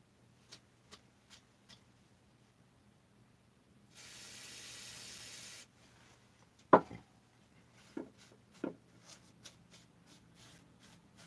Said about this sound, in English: I'm gonna hit it with the degreaser, just for giggles